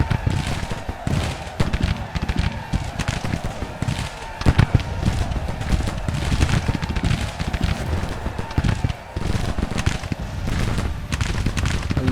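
Musket volleys and cannon fire from a Civil War battle in the video game Grand Tactician: The Civil War, heard as dense, continuous crackling gunfire with heavier booms mixed in throughout, loud and steady from start to finish.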